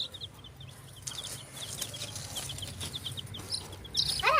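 Small coloured farm chicks peep in quick, thin, high chirps again and again, fairly faint, with a soft rustling murmur beneath and a brief louder burst of chirping at the end.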